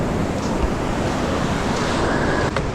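Steady surf washing onto the shore fills the whole stretch, a broad continuous roar with some wind rumble and no voices.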